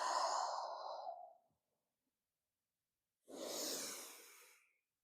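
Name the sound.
breathing during vinyasa yoga exercise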